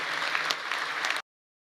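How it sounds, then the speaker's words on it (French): Audience applause for the military during a Trump speech, a dense wash of clapping from a large crowd that runs steadily for about a second before cutting off abruptly. "on joue la carte patriote, donc on fait applaudir l'armée"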